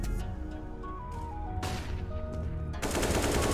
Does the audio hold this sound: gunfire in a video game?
yes